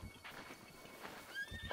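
A horse in The Legend of Zelda: Breath of the Wild whinnies among a few soft hoof clops, quiet and brief, with a thin high tone near the end.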